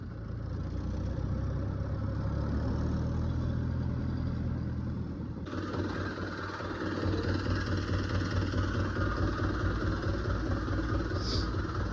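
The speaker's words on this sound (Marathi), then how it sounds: "सो ट्रॅक्टरवर थोडी सवारी करतो आहे मामासोबत." A tractor engine drones steadily during a ride, a close, continuous mid-pitched rumble with a brief shift in tone about halfway through, then running on slightly louder, with no talking.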